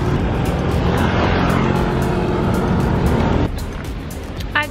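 Busy Kuala Lumpur street traffic with cars passing continuously close by, a steady loud rush of engines and tyres, easing slightly near the end.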